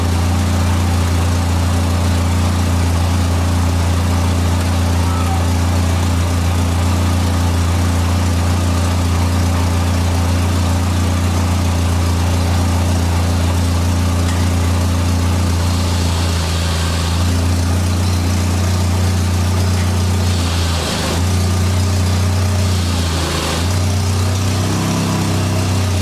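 The engine of a 1989 Dodge Daytona ES salvage-yard car runs at a steady, loud idle with a droning low hum, shifting slightly as the car is eased into gear.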